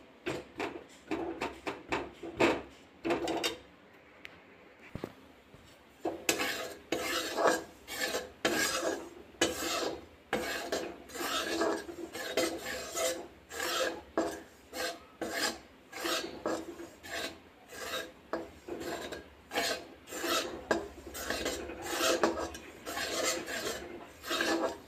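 Besan being roasted and stirred in a pan over a medium gas flame, a close, steady run of rhythmic scraping and rasping strokes from a spoon against the pan, with a brief pause near the start.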